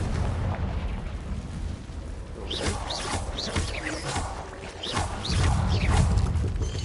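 Confringo blasting spell in Hogwarts Legacy, a deep rumbling explosion with booming, crackling fire bursts that swell louder toward the end, close and sustained.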